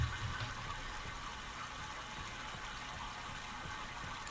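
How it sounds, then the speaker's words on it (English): Water flows steadily in the Myst video game, a continuous, even rushing wash with no breaks, moderately quiet and alone without any talking. "we know the water is flowing through here, and we want it to go to the right now."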